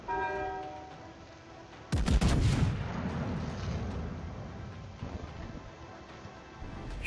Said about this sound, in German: Ich schieße jetzt auf die North Carolina